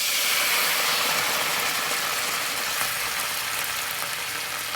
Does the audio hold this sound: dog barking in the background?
no